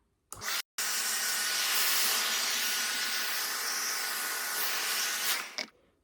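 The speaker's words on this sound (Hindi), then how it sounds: "थक गई गाइज मैं इतना भारी ड्रायर इतनी देर तक होल्ड करके." A Torlen hair dryer fitted with a diffuser blows with a steady, loud airy whoosh, switching on after a brief cut and running continuously for several seconds before shutting off.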